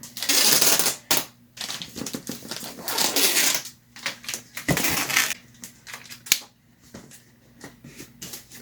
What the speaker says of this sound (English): I'm gonna put more tape around here.